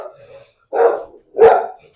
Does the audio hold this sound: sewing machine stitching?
no